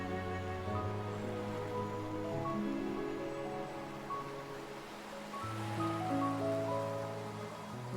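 Steady rain falls in a scene from the video game Love and Deepspace, a continuous hiss of drops on surfaces under low sustained musical tones, with no voices.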